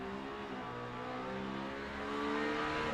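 Fire truck driving in during a firefighting championship drill, a steady engine drone with tonal harmonics that grows slightly louder toward the end, heard from a moderate distance with no voices.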